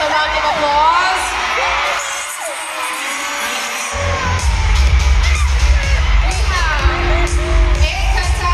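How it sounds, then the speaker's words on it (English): A lively crowd at a fan meet with Park Seo Jun in Manila cheers, whoops and yells loudly, with clapping and a heavy low rumble building partway through, voices overlapping throughout. "Let's welcome them with a round of applause."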